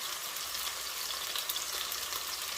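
Salmon fillet frying in a pan for a honey garlic glazed dish, a soft, even sizzle with light popping that holds at a low level throughout, nothing else over it.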